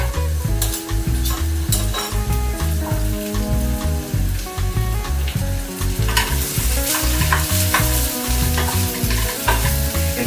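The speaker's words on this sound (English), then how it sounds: "Now I add my mushrooms," Mushrooms fry in olive oil with garlic in a pan, sizzling loudly and continuously with frequent stirring clatter close by, over faint background music.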